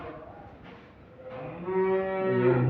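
A Friesian dairy cow, one of the high-yield milking cows at a cattle market, lets out a loud, drawn-out moo that swells and holds near the end, after a quieter stretch of low rumbling.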